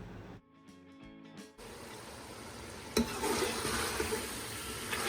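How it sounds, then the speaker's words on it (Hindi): Chicken cooks with masala in a pan for a cabbage curry. After a brief quieter start, a steady, close sizzle rises and continues, with a metallic clank of stirring partway through and no talking. "चिकन को मसाला के साथ 2 मिनट कुक करेंगे"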